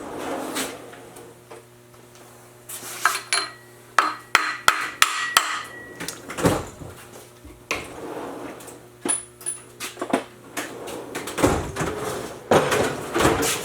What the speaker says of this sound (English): tap this the rest of the way in. Or get a bigger socket even.